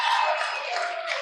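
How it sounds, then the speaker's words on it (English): Audience applause at the 2023 Rome mayoral debate, a steady wash of clapping from a crowd that holds an even level for just over a second. "we do have to hold our applause and move on to the next question"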